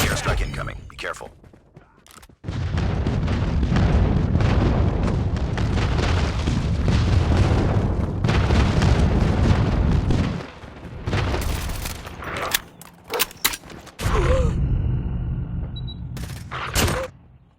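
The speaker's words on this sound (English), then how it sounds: "Enemy Airstrike incoming." Airstrike explosions rumble through a Call of Duty Mobile deathmatch, a loud sustained roar of booms from about 2.5 to 10 seconds, followed by sharper bursts of blasts and gunfire, with in-game voice callouts mixed in.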